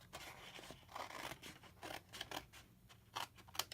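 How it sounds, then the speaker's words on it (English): Scissors snip and cut through scored card stock while making a gift bag box, a series of short crisp snips in bursts, close and fairly quiet, with no talking. "just going to snip up to the score line, and then I'm going to cut straight across, just along my score line"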